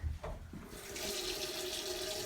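Water running from a bathroom sink faucet during a hand-washing demonstration. After a few faint clicks, the tap opens and a steady, close rushing stream follows.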